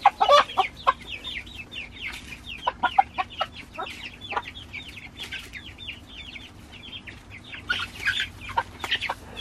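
Mother hens and chicks clucking and peeping in quick irregular bursts, several birds close by, with a faint steady hum beneath.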